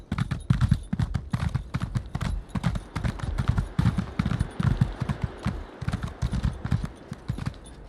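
Rapid, rhythmic clip-clop of horse hooves galloping in the video game Elder Scrolls Online, steady and close, a continuous drumming beat with no voices.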